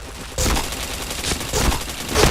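Rapid bursts of video game gunfire from a first-person shooter, loud and close, with clustered shots around half a second in and again near the middle and end, followed by brief pauses.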